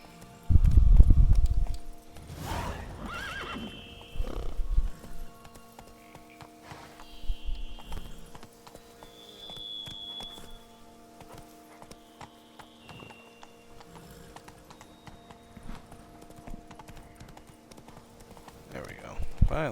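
Horse hooves clip-clop in uneven bursts with a brief whinny in the game Witcher 3, under a steady game soundtrack; a person talks over parts of it.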